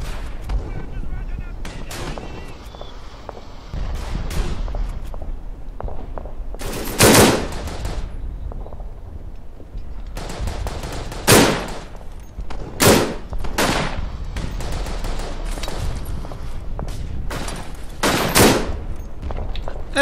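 Automatic weapon fire from a BAR in the WWI shooter Verdun: loud bursts and single cracks recur at irregular intervals over a busy battlefield bed of distant gunfire, with a voice talking over part of it.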